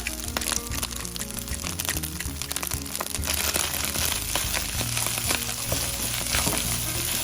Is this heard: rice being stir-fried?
yes